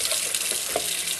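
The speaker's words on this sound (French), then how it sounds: "Je rince également les oignons blancs et les poivrons." White onions and bell peppers are rinsed under a running kitchen tap for paella, a steady, close hiss of flowing water splashing over the vegetables.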